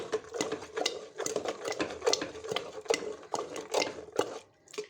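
Mustard greens saag being mashed with sprinkled maize flour for Punjabi-style sarson ka saag, giving repeated soft thuds and scraping strokes of a masher in a pot, steady and close, with no talk.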